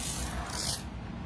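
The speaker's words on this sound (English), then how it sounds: "spray this rinseless wash solution on here" Rinseless wash solution sprayed onto a car's body panels, a steady close hiss of the spray bottle running almost continuously with little pause.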